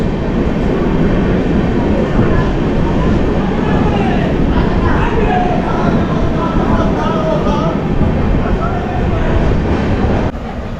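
An Amrit Bharat Express superfast train runs through Bardhaman without stopping, with a loud, steady rumble and rail roar heard from on board, continuous for the whole stretch and easing slightly at the very end.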